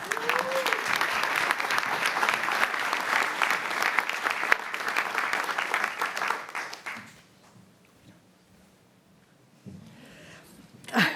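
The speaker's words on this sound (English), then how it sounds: "Please give a round of applause for our doctoral degree recipients" A graduation-ceremony audience claps warmly for doctoral degree recipients at a humanities, arts and social sciences advanced degree ceremony, sustained applause that fades out abruptly, leaving quiet room noise and a brief voice at the end.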